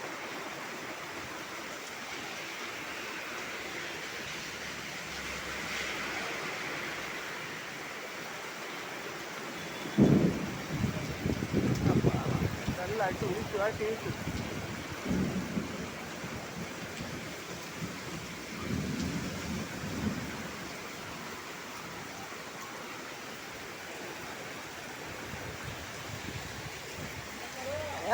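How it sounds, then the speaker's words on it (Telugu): Heavy rain pours steadily near a roadside pani puri cart, with broad hissing throughout and louder bursts and rumbles around the middle; someone speaks briefly over the downpour. "మొత్తం వర్షం"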